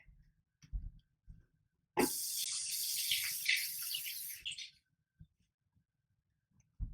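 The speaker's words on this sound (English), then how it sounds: "I'm gonna rinse off my hands real quick." A kitchen tap runs for about two and a half seconds as hands are rinsed under it, a steady hiss of water with quiet clinks and shuffles before and after.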